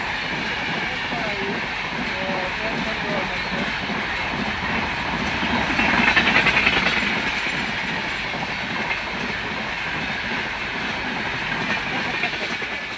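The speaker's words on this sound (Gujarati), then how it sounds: "તો ટ્રેન પણ આવી અત્યારે બપોરના સમય દરરોજનો ટાઈમ હોય એનો" At midday a train rolls past a level crossing near a rural station, with a steady loud rumble and clickety-clack of wheels over rails throughout, a hissing rise near the middle and faint voices under the noise.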